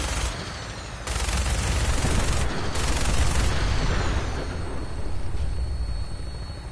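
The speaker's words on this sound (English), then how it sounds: "Well, I'm being shot at." Gunfire in Fallout 4: Nuka-World, a dense, loud barrage of rapid shots blending into a roaring wash that swells after the first second and lingers, with no talking over it.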